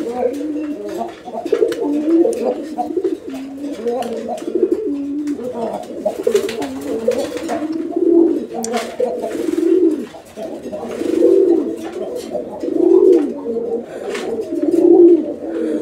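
Pigeons in a breeder's loft coo repeatedly in deep, throaty rolling phrases, close and clear, with occasional flutters and light background noise.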